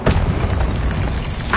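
A fiery Incendio spell blast from the Hogwarts Legacy video game, a loud sustained booming burst that roars across the whole moment with a slight flare at the end.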